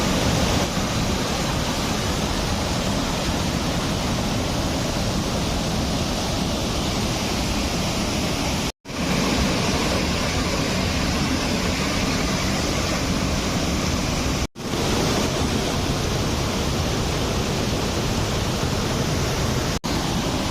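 The Deojharan waterfall near Deogarh, Odisha, sends water rushing down in a loud, unbroken roar that stays constant and close, with only a couple of brief cut-outs and no voices.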